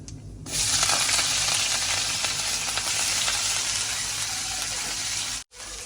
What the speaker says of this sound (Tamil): எண்ணெய் சூடாகிட்டு இதுக்கு வந்து கொஞ்சம் கடுகும் சீரகம் போடுவோம்.